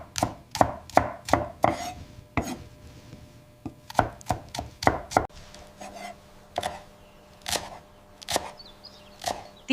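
A knife chops minced garlic on a cutting board in quick bursts of sharp, close taps, pausing briefly between runs of strikes.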